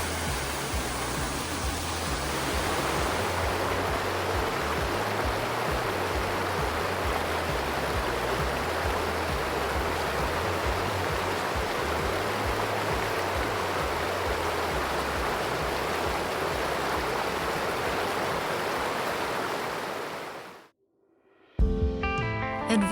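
Waterfall in a small Utah grotto, a steady, loud, broad rushing of falling water filling the space without pause, cutting off abruptly near the end.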